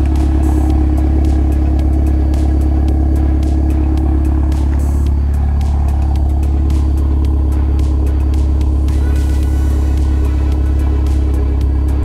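A 2010 Mitsubishi Lancer Ralliart Sportback, turbo-swapped, with a MagnaFlow performance exhaust idles with a deep, loud exhaust rumble, steady and close, with occasional clattering ticks.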